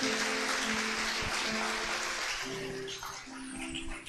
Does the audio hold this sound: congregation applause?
yes